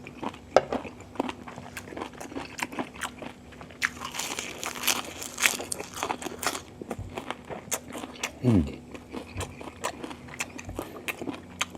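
Close, crunchy biting and chewing of jellyfish dipped in suki sauce, with wet crackles and repeated bites that build to a denser burst in the middle before settling into slower chomps.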